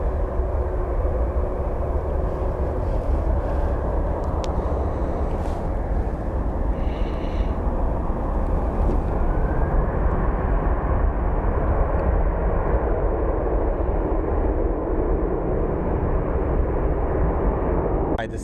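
A Boeing 767 airliner coming in to land at Phoenix Sky Harbor airport gives a loud, continuous broadband jet roar that holds steady for nearly twenty seconds.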